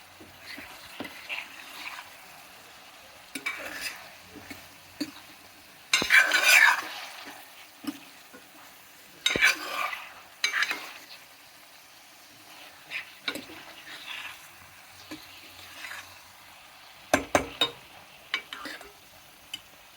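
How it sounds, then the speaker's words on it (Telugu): Sambar rice with spices, tamarind pulp and fried vegetables such as drumsticks, potatoes and beans is stirred in a pot. Irregular bursts of scraping and soft clattering come between quieter stretches, with a faint sizzle underneath. "రెండు స్పూన్ల నిండి వేసేసి మొత్తం కలుపుకుందాం ఇప్పుడు"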